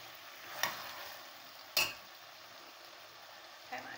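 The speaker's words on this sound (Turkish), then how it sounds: "Şöyle yaklaşık 5 dakikadır kavuruyorum arkadaşlar ben bezelyelerimi." Peas being sautéed in a pan, a soft, faint sizzle broken by three sharp clinks of a utensil scraping and stirring against the pan.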